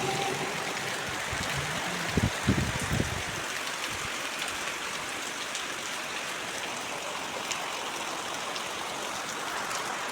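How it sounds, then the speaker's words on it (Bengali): Heavy rain falling outdoors on a rural farming day, a dense, continuous hiss of downpour with scattered drips and a few brief knocks early on, steady and moderately near, no voices. "প্রচণ্ড বৃষ্টি হচ্ছে।"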